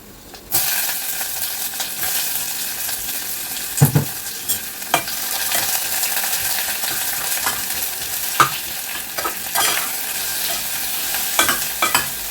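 Onions and potatoes fry in a pan with a constant sizzle, broken by scrapes and knocks as they are stirred, loud and close.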